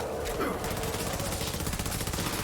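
Night Hawkin SMG gunfire in the Borderlands 3 video game, a continuous rapid stream of shots, loud and dense throughout the short burst.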